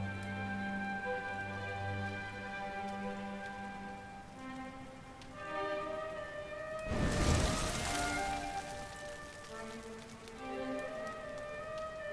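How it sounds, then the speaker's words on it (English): Rain falling in the video game Dragon Quest XI S, a soft continuous patter under sustained game music, swelling into a louder rushing burst midway before settling back to gentle drizzle. "Looks like the rain's dying down."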